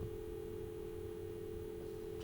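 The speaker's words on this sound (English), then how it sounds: "Got dial tone." A steady continuous dial tone from a Nortel Millennium payphone handset, a low even hum that holds unbroken and quiet through the whole short stretch.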